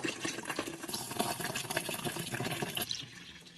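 Pulao rice is washed in water, with continuous close sloshing, swirling and trickling as the grains are rubbed and stirred in a vessel, easing off near the end, with nobody speaking.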